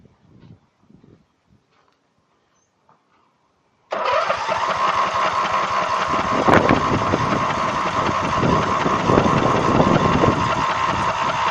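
A John Deere EZtrak Z225 zero-turn mower's engine, with a freshly fitted carburetor, cranks and catches after a few faint knocks, then runs loud and steady at close range without pause.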